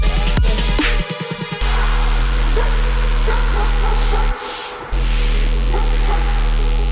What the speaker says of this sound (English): That dog bark.